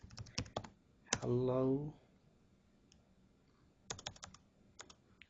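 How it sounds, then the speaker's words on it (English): Someone types code on a computer keyboard in short bursts of crisp clicks, pausing while a voice speaks briefly between the bursts. "Looks like the keyboard is not keeping up with me."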